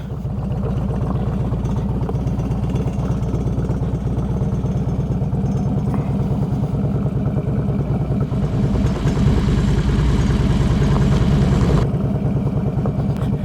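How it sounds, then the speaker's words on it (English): A Harley-Davidson motorcycle ridden after a fork oil change, its engine thumping in a steady rapid rhythm close by, swelling slightly louder toward the end before easing off, with no talking. "this will be the first time I've rode the bike since I changed my fork oil"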